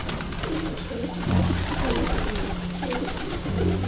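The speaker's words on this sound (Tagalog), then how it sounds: "So ayan po ang ating mga ibon" Soft, low pigeon coos repeat in rolling phrases over a busy background of fluttering and chatter from a flock.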